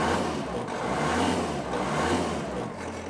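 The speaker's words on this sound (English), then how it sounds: "when I push that pedal down going into that higher gear, my tractor is going to drive faster" A tractor with a hydrostatic transmission speeding up in a higher gear, its engine droning loud and near with a broad, rising mechanical roar and no speech.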